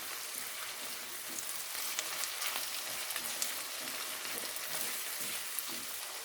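Barbunya bean pilaki ingredients being stirred in a pot, a steady broad sizzling and bubbling hiss with soft scraping, close and continuous, no voices.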